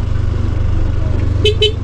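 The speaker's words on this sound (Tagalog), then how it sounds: "Busina tayo, tulad doon, may nakasalubong tayo." Two short motorcycle horn honks sound over a steady engine rumble on a one-way mountain road in Atok, Benguet, the pair quick and close together near the end.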